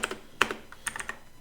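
Fingers tap out a short quick burst of keystrokes on a computer keyboard, light clicking keys at close range with no talking.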